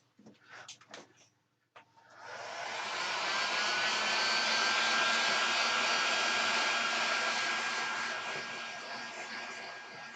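A heat gun blasts hot air to shrink heat-shrink tubing on a cable during a workshop spot welder build, a steady loud roar starting after a few brief clicks and handling noises and continuing unbroken to the end.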